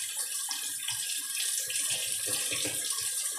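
Tap water running steadily into a sink while crawfish tails are rinsed, a continuous close splashing hiss with small irregular gurgles as the water hits the tails, no speech.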